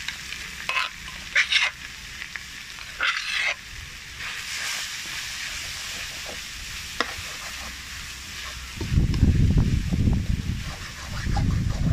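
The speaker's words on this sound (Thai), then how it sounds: "เอาน้ำพริกลงไปผัดเลยค่ะไปคั่วเลยค่ะ" Mackerel and chili paste stir-fried in a pan, a steady sizzle with scraping stir strokes that swells into louder, denser frying toward the end.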